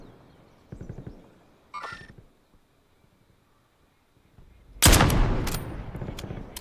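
Video game gunfire, a sudden loud burst of rapid shots near the end after a quiet stretch with a few faint clicks and soft thuds, the volley rattling on for about two seconds.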